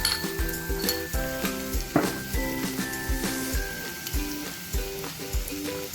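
Garlic paste sizzles in hot oil over fried onions in a pan for an Indian chicken meatball curry, a steady crackling fry with rhythmic stirring clinks of a utensil against the pot.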